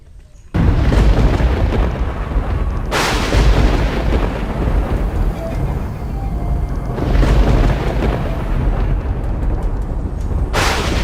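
Deep rolling thunder in a Nollywood epic film, loud repeated booming swells that surge, fade into a rumble and surge again, with no voices.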